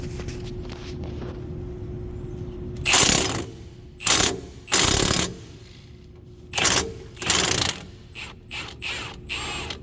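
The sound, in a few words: impact wrench loosening Lexus IS250 rear strut bolt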